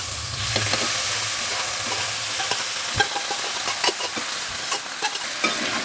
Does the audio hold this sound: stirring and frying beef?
yes